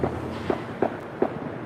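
Fireworks at a July 4th show, four dull thuds at even intervals, moderately loud and distant, with no talking.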